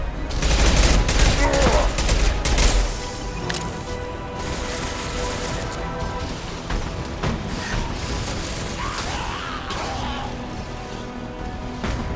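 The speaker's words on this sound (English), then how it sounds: "Firing an impact shot." Heavy gunfire from an impact shot in the video game Mass Effect 2, a loud dense burst of shots and booms at first, easing into a sustained rumble of combat noise through the rest.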